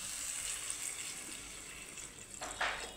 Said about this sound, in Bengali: এখন দিয়ে দিব ঝোল।